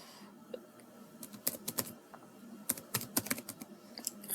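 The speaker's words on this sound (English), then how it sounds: "So I'm just typing it over here for the purpose of your reference." Quick bursts of keyboard typing, close and crisp, with irregular clusters of key presses separated by short pauses.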